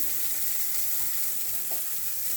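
Soya mixture frying in a pan over a lowered gas flame as turmeric goes in, a steady bright sizzle with faint stirring scrapes, no talk.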